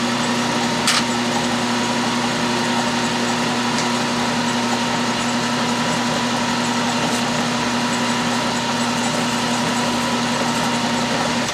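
Metal stock spinning on a lathe while being lightly countersunk, a steady machine drone with a strong constant hum and broadband whir throughout, with a couple of faint clicks.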